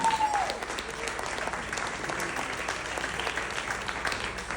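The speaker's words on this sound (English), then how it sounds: "Ladies and gentlemen, one last round of applause for Thomas Toon." Wedding guests give the best man a last round of applause, a steady roomful of clapping that carries on evenly, with faint crowd murmur beneath.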